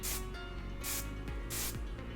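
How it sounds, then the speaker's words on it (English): Three short hissing bursts of aerosol hairspray sprayed onto wavy hair, close up, separated by brief pauses over a faint background hum. "I kind of spray downward and I fluff as I spray"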